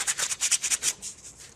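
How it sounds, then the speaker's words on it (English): Sanding sponge rubbed in quick back-and-forth strokes over a resin part of a 1:100 model kit, about eight close, rhythmic scrubbing passes that soften toward the end, with no talking. "that's where the sanding sponge comes in hand because I can just get in there"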